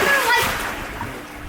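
Kids splash into a backyard swimming pool, giving a short burst of loud splashing that settles into sloshing water, with voices talking over it.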